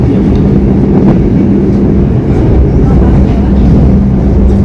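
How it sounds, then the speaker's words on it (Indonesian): A Taksaka New Generation passenger train in Indonesia rumbles past up close, a loud continuous rolling roar with faint rhythmic clatter throughout. "Itu adalah kereta Taksaka New Generation"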